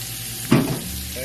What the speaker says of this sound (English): You can see the oil is going pretty nicely now.